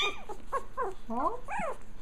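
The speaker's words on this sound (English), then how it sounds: "Buddy's growling a little bit" A small Japanese Chin puppy makes a few short, rising whiny growls and yips close by, in uneven bursts, with no talking.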